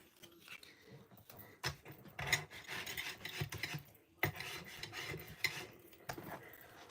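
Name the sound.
scraper tool rubbing over washi tape on card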